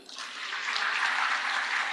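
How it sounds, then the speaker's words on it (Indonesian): Audience applause at a tsunami memorial launch event in Aceh, a dense, steady clapping that rises quickly and holds for a couple of seconds at moderate level. "Karena kami jadi tepuk tangan kepada Medan Japan Club juga."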